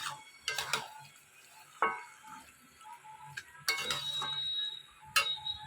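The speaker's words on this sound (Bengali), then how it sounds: "ভালো করে এখন নাড়াচাড়া করে নিচ্ছি" Mutton curry stirred in a pot, with scattered scraping and clinking knocks of a spoon against the metal, some sharp and close, separated by quieter pauses and a faint sizzle.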